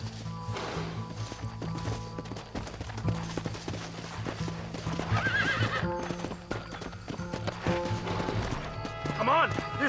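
Horses gallop with rapid clip-clop hooves and occasional neighs in a western-style video game chase toward a train, shouting voices and music layered over the steady hoofbeats.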